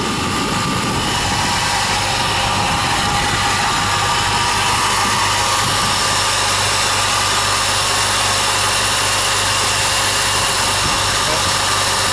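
A Jeep engine with a new starter keeps running steadily at idle, a continuous broadband drone with a low rumble that holds level and loud throughout with no talk.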